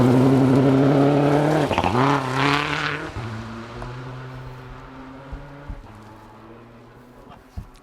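Rally car at the 2012 Olympus Rally accelerating hard on a loose gravel stage, engine revving high then dropping through gear changes as it pulls away and fades into the distance, with gravel crunch beneath.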